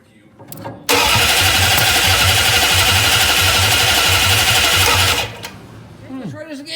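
A 1966 Plymouth Barracuda engine cranks for about four seconds in a loud, even whirring churn with rhythmic pulses, without catching, then stops; a voice is heard briefly afterward.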